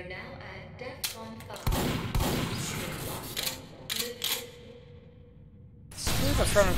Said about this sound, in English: The Frontier Justice had a unique shotgun sound.